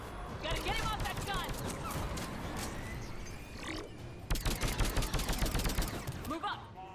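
Enemy gunfire from a mounted mountain gun in the video game Mass Effect 3, loud bursts of rapid shots over battle noise, with soldiers shouting throughout.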